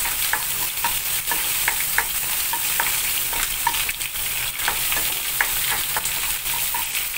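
Chopped onion sizzling in a pan while being stirred, a steady close frying hiss punctuated by repeated light scrapes and taps of a spoon, no talking.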